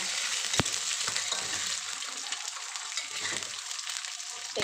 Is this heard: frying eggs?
yes